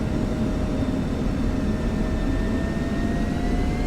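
Steady, loud jet engine whine with a low rumbling roar from an F-16 taxiing in the flight simulator DCS World, a continuous drone with faint rising tonal lines and no talk over it.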